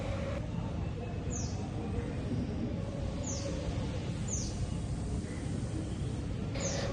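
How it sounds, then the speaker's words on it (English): A few short, thin bird chirps ring out faintly at scattered moments in the early morning, set against a steady wash of background noise. "you get the nature ASMR, no, ASMR thing where you have these birds chirping in the background"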